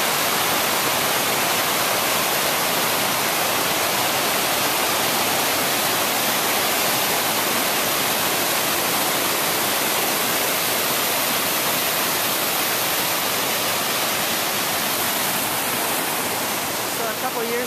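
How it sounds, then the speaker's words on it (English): Rushing white water of a creek along the Multnomah Falls to Wahkeena Springs loop hike, a loud, constant broadband roar that stays steady for the whole stretch with no other sounds breaking through. "Just all the white water coming down this creek is just beautiful."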